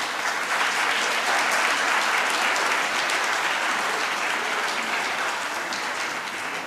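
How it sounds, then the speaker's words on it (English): Sustained audience applause at a book launch greets an author coming onto the stage, a dense, steady clapping from a sizable crowd that holds evenly loud throughout with no speech over it. "With a warm round of applause,"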